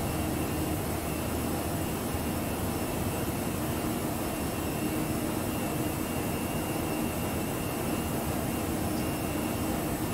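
A simulated ToLiss A319 airliner's jet engines at climb thrust in X-Plane give off a steady, even broadband roar and hiss from start to finish, with no voices over it.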